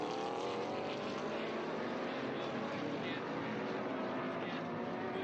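Porsche and Ferrari 458 Challenge Evo race cars battling at Circuit of the Americas during a vintage racing event, a continuous loud engine roar with commentary running over it.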